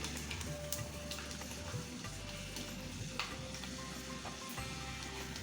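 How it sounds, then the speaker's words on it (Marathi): Peanuts fry in hot oil for potato chivda, giving a steady, close sizzle with soft crackling pops throughout and no voices over it. "आता आपण चिवडीसाठी शेंगदाणे तळून घेऊया"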